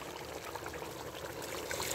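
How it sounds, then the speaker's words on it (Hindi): Mutton stock (yakhni) is poured into a pot for pulao, a soft continuous trickle and splash of liquid, faint and steady throughout. "2 गिलास यखनी है और 1 गिलास में पानी डालने लगी।"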